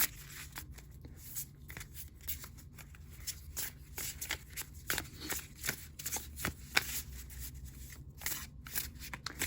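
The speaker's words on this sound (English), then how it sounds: "Enjoy this tarot card shuffling ASMR." Tarot cards shuffled close up: rapid riffling flutters and soft slaps repeat in bursts, crisp and intimate against a quiet background.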